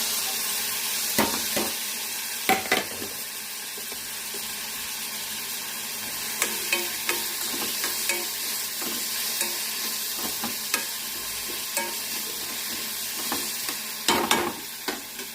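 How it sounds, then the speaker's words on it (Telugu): Onions sizzling and frying in a pan for a keera curry, a steady hiss broken by occasional scrapes and clinks of a spoon stirring, close and fairly loud with no talking. "కొంచెం వేగనివ్వాలి. Next I'm going to add ఉల్లిపాయలు."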